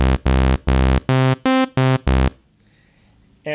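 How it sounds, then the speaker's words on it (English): Seven short, bright saw-wave synth notes from a basic init patch in Serum play in a quick stepped sequence, then fade to near silence before another note starts at the end. "starting from this init patch, a basic saw wave"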